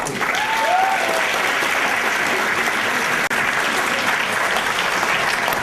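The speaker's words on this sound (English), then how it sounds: "you should give yourself all a round of applause" Steady applause from a school district audience, dense, even clapping that holds throughout at close range, with a faint brief tone near the start.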